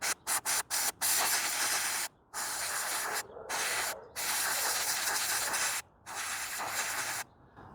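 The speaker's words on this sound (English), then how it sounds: "I'm gonna get some air, blow this nozzle out before I put the new light in." Compressed air blasts out the nozzle of a third brake light on a 2018 or newer Ford Expedition. A few quick, sharp bursts are followed by several longer, loud, close hissing blasts.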